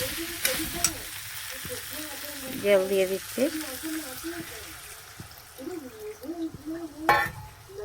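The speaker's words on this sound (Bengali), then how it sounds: "এবার একটু জল দিয়ে দিচ্ছি" Water is poured into a pan of fried vegetables. A soft, crackling sizzle and stirring run under a person's intermittent talking.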